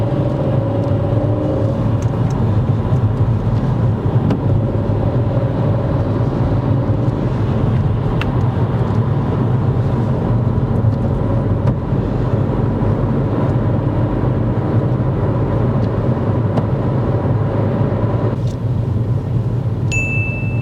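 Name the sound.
learner's car building up speed on a dual carriageway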